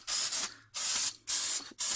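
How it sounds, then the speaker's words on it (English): Brake cleaner sprays from an aerosol can onto the front brake hub of a 2004 Ford Mustang in four loud, sharp hissing bursts, each lasting about a third of a second with brief gaps between. "So spray from the top down."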